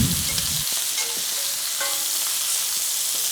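Chicken wings sizzle in a hot pot over medium-high heat, a steady close crackle of frying with a few stirring scrapes.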